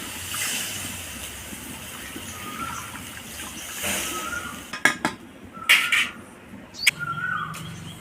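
Water poured into a pan of browned onions for a vegetarian okra curry, giving a bright hissing rush around the middle, with pot and utensil clinks and clatters following.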